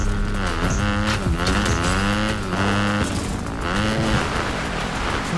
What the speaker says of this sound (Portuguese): Moto de trilha, mano. Motinho no Fortnite, cara.